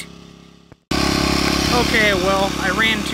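A small generator engine drones loudly and steadily after a brief cutoff, with a person speaking over the running motor.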